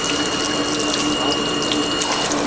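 Tap water runs steadily from a faucet inside a 1995 Ford Econoline 4x4 camper van conversion, a constant close hiss of flow without pause and with no voices.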